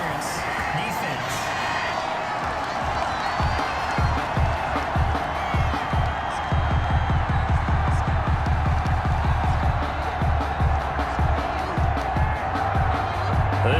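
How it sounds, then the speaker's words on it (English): Home stadium crowd in the Madden NFL 21 football video game, a steady roar of cheering and whooping that rises and holds throughout, with a commentator talking over it. "This home crowd, they're happy with that call."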